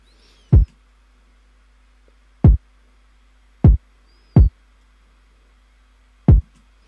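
Hard-hitting kick drum from a beat, five deep, punchy thumps at uneven spacing, loud and close with nothing else playing.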